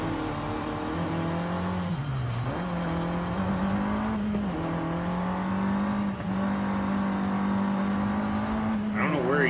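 A Nissan Skyline GT-R R34 engine in the video game Forza Horizon 5 drones at steady revs with brief dips as gears shift, loud and continuous, with someone talking over it.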